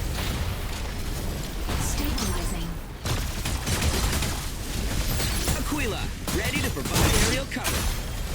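Gunfire from an assault rifle in the mech combat video game Mechabreak crackles in rapid bursts under a dense, noisy mix of game effects, with someone talking throughout.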